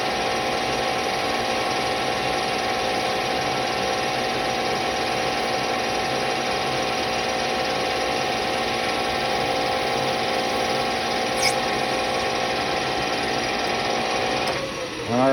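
A metal lathe takes a cut off the outside diameter of a ring, a steady continuous machining drone with a mechanical hum running the whole time and a brief shift near the end.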